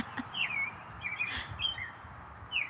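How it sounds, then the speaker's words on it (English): Birds chirp in short bright bursts, several calls spaced a second or so apart over steady low background rumble, moderately close and alone without talk. "Listen to the birds."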